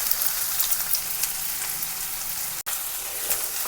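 Onions and green chillies frying in oil, a dense hissing sizzle close up with faint crackles, cutting out for an instant near the end.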